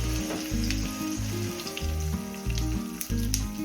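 A pan of food sautés with asafoetida for carrot and raw mango rice, making a bright, steady sizzle broken by a rhythmic run of low scraping stirs, close by and with no talk.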